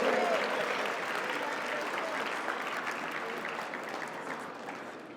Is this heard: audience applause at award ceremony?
yes